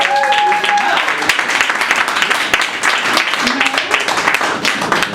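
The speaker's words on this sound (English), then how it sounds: "Ladies and gentlemen, give a nice warm round of applause for Gregory Joseph." Comedy club audience clapping at Broadway Comedy Club as a comedian is introduced, a dense, fairly close wash of applause and a few cheers filling the whole stretch, with the host's voice over it early on.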